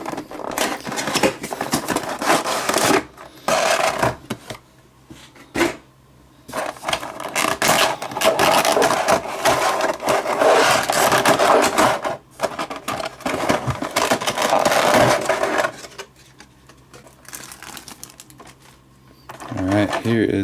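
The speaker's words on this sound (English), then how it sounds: "we're going to go ahead and get right into the unboxing and take a look at it" Cardboard box and plastic packaging of a Gemini Jets 1:400 Delta A350-900 model being opened and handled, with loud crinkling, rustling and scraping in bursts broken by short pauses, close up.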